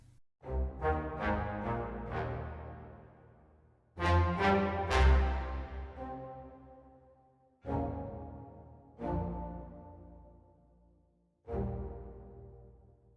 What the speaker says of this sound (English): Another one of my favorites is the large warm hall from the TC6000 or the